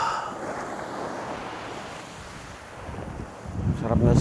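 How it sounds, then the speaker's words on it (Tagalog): Ocean waves breaking on a beach on Calaguas Island, a steady wash of surf with wind noise across the microphone, swelling to a louder, nearer crash at the end. "Tapos sabayan mo nung hampas ng alon."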